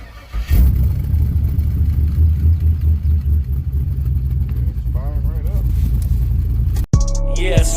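A Chevy engine with a freshly installed BTR cam cranks and fires up, then settles into a loud, choppy idle close by, with a brief cutoff before it comes back near the end.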